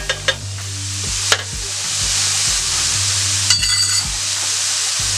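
Minced garlic sautéing with vegetables in a skillet for a country breakfast casserole: continuous close sizzle broken by several scraping stirs and clinks of a utensil against the pan, no talking.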